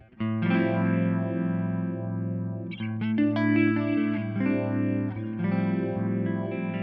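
Sustained electric guitar chords through a phaser pedal in vintage mode, with a slow, sweeping swirl, played continuously without talking.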